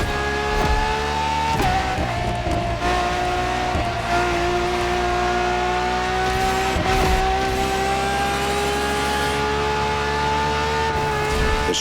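Ferrari's strongest naturally aspirated V12 hybrid supercar roars in The Crew Motorfest, a loud continuous engine tone rising and dipping through gear changes with brief tire squeals, close and sustained.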